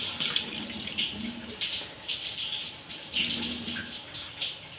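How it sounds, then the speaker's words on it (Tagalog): Water used to rinse rice is poured out of a pot, making a continuous splashing rush that swells and eases in a few surges. "At itapon uli ang tubig."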